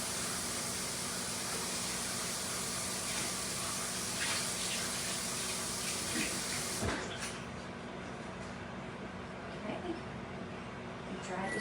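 Water runs steadily from a kitchen tap while a cooking dish or utensil is rinsed out, a continuous hiss that thins out partway through, with faint handling clatter.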